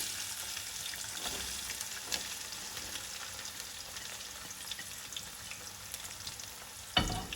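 Onions and green chilies frying in hot oil in a pan for chicken biryani, a continuous soft sizzle with faint stirring scrapes and a brief clatter near the end, quiet and without speech.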